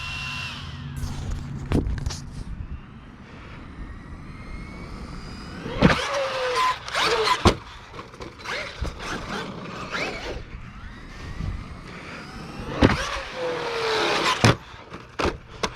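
A Traxxas Maxx 4S V2 RC car with a Hobbywing Max8 system on a 4S battery, its electric motor whining in repeated bursts as it accelerates, with impacts and clatter from jumps and landings, loud and close.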